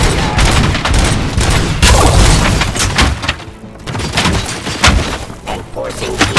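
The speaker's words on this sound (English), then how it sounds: "Gunshots? What's going on?" Heavy gunfire in the RoboCop: Rogue City video game, rapid overlapping shots and booming impacts in a loud, continuous barrage with brief lulls.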